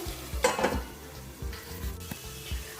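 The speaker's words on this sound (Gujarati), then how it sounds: "ઢાંકણ ઢાંકી અને ગેસની ફ્લેમ મીડિયમ રાખી અને 10 થી 15 મિનિટ માટે હાંડવાને ચડવા દઈશું।" Green handvo batter frying in a covered pan over a medium flame, giving a steady close sizzle with soft bursts of crackle and occasional light clinks, no voices.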